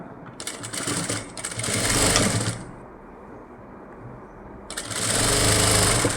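A sewing machine stitches a blouse cup panel in two loud, steady whirring runs separated by a quieter pause, close and alone.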